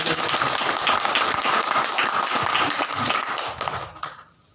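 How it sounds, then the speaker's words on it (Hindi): A church congregation at an Easter Sunday service breaks into loud, sustained applause that holds steady before fading out near the end, leaving near silence. "एक बार जोरदार तालियां बजाएंगे हम।"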